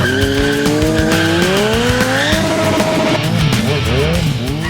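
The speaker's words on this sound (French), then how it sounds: "Et ça a l'air encore plus simple lorsque Matt grimpe sur sa Triumph Daytona de 125 chevaux" A 125-horsepower Triumph Daytona motorcycle rides a training track, its loud engine note rising and falling through gear changes with a close, continuous whine and no talking.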